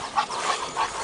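An excitable pet dog indoors at home gives a few short, soft vocal bursts, spaced about a third of a second apart, over a steady noisy background with no talking.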